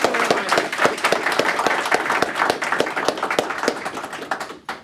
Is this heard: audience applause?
yes